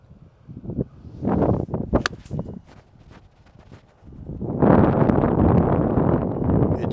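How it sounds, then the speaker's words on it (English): Gusty wind buffeting the microphone at an outdoor golf driving range, rising into a strong sustained rumble in the second half, with scattered rustles and knocks before it. "Oh, we got some wind, huh?"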